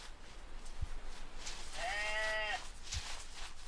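A single sheep bleat from the video game Paranormal P.I. rises midway through, a drawn-out wavering cry set against quiet ambient noise, with a couple of soft thumps around it.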